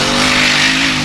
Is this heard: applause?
no